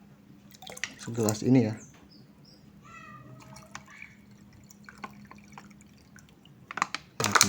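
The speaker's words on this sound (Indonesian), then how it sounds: "kita tuangkan IM4 yang sudah terfermentasi sekitar 100 cc" About 100 cc of fermented EM4 bacterial solution is poured into roughly a liter of water, giving a short splashing trickle, then a second burst near the end, with someone talking in between.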